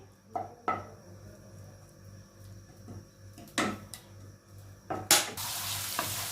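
Ginger garlic paste fries in ghee with soft sizzling, occasional spoon scrapes and clinks, then a louder burst of frying hiss near the end.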